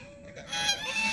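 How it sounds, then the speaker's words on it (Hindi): A duck gives a brief, nasal honking call outdoors near water where swans, ducks and cuckoos gather, a single short call at moderate distance with no voices. "ये बतख की आवाज़ है,"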